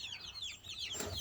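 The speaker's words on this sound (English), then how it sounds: "See, this is our baby chickens." Baby chickens in a small temporary pen on a family farm give a quick run of high chirping peeps, close and clear over a soft low background.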